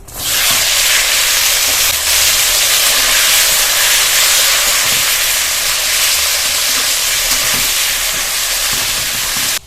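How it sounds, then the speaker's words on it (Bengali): Long strips of pointed gourd (potol) frying in the oil left from frying fish, in a rustic village kitchen: a loud, steady broadband sizzle and hiss that holds unbroken throughout, with faint low knocks beneath and no talking. "মাছ ভেজে নেওয়ার পরে ওই তেলের মধ্যেই আবার লম্বা লম্বা করে এই কেটে রাখা পটলগুলো দিয়ে ভেজে নেবো"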